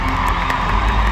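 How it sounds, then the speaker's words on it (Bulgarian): A crowd cheers and whoops continuously at close range, a dense wash of voices with claps mixed in. "Вземи си аплодисментите"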